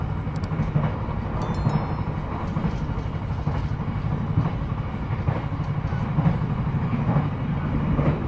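Steady rumbling roar inside a moving older passenger train carriage, with continuous rolling wheel noise and faint rhythmic rail clicks, close and unbroken throughout with no talk.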